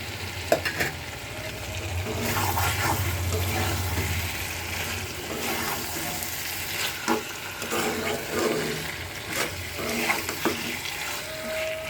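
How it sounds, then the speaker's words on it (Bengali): Chicken rice sizzles and fries in a pan of spiced masala, with a loud, continuous crackle broken by repeated scraping stirs of a utensil, heard up close. "একটু ভাজা ভাজা করে আজকে রান্না করব"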